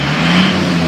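An Isuzu Panther diesel engine revs up close during repair testing, a brief loud rough roar with a steady low throb.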